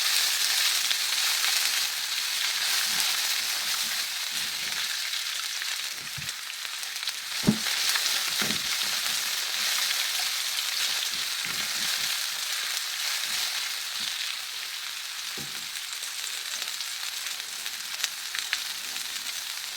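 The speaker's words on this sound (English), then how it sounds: "I'm just going to be adding the whole of the veggies to it, and I'm going to stir it together." Green and yellow peppers with other vegetables fry in a pan for a Nigerian-style cheesesteak: a steady, even sizzle throughout, broken by occasional soft knocks and scrapes of stirring, with no voices.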